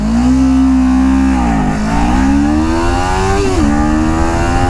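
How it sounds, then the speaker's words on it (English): A motorcycle launches hard at high RPM. The loud, close engine holds a high rev, dips briefly as it shifts, climbs again and dips once more, with no talking. "when you're trying to launch a bike like this"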